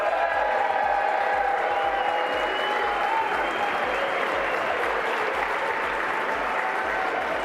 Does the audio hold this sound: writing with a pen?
no